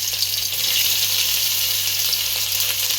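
Ginger and garlic sizzle and crackle steadily in hot oil as the tempering for dal is started, a continuous close frying hiss with no talking.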